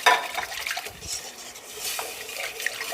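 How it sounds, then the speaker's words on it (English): Evaporated milk being whisked into cream of mushroom soup in a pot, with a rapid scraping, clinking whisk against metal and liquid swishing, fairly close and without talk. "Now let's go in with our evaporated milk and continually whisk."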